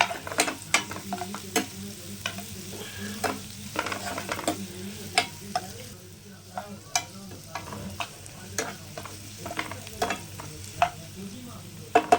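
Quail pieces sauté for a pepper fry, with a soft sizzle underneath as a spoon scrapes and stirs the pan in irregular taps and clatters, fairly close and without talk.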